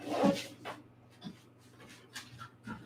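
A dog barks in a few short, faint bursts spread over a few seconds, with quiet pauses between them.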